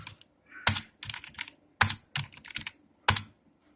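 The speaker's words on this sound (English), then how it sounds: "I'm just typing something." Typing on a computer keyboard in bursts of quick keystrokes, each cluster opened by a louder clack, close and clear with no talking.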